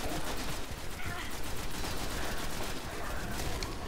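Rapid automatic weapon fire in the video game Destiny, a dense continuous burst of shots held throughout at steady loudness with game effects mixed in.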